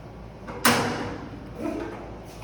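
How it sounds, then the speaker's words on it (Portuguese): A hyperbaric chamber door swings shut with one sharp, loud thud and a metallic rattle, followed by a softer scraping settle as it seats, close by. "Fechamento da porta da câmara."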